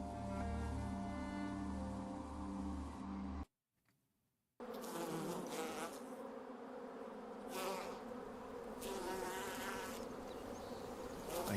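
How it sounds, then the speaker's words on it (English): Bees buzz in the medieval video game Bellwright, a dense continuous drone that drops out briefly and then returns with swelling passes, fairly loud and with no voices over it. "I hear the bees."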